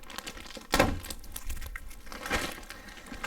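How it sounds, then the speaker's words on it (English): Crinkling plastic and a sharp tearing sound up close as tape is pulled off a plastic bag around a water machine, with a couple of louder rustling bursts and no talking. "so you can go ahead and pull this tape off"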